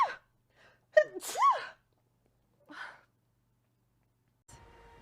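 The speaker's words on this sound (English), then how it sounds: "I'm gonna sneeze." A person gives a few sharp sneezes with gasping breaths, close and loud, separated by short silences, followed by a faint background hum.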